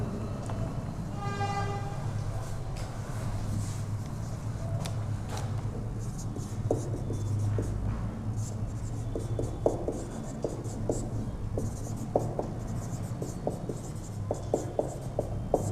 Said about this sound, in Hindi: थोड़ा इधर लिख दे रहे हैं।